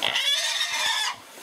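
A small wild boar of about 30 to 40 pounds squeals during a pig hunt, one loud, close, high-pitched continuous shriek lasting just over a second before cutting off.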